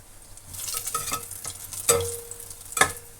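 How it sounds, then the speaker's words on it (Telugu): Raisins fry in a pan for dry fruit laddu with cardamom powder, giving a soft sizzle while a utensil stirs and scrapes, with a couple of sharper clinks standing out. "కిస్మిస్లు కూడా వేగిపోయాయి"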